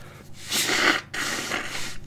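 Someone blows their nose twice in a row, close up: two breathy, honking bursts, each about half a second, with a short pause between.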